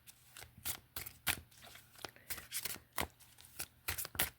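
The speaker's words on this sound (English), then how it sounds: "We're going to put these back into the deck, and we're going to continue to shuffle." Tarot cards being shuffled close up: a string of quick, crisp riffling slaps and flicks in irregular bursts, fairly quiet, with no talking.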